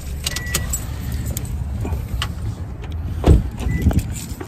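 A car being switched off, followed by keys jangling in several short metallic bursts and a thud near the end, heard close up.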